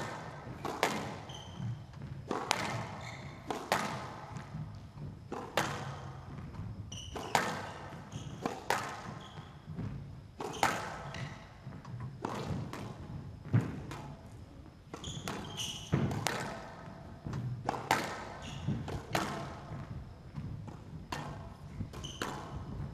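A squash rally at the CIB ZED Squash Open 2022, with the ball struck by rackets and cracking off the walls in a steady run of sharp, echoing hits and thuds. Squeaks and footsteps sound between hits over the whole stretch.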